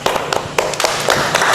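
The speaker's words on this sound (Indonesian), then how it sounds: "Aplaus dong." A small audience claps in a short burst of uneven, fairly loud hand claps, close by and with no voices over it.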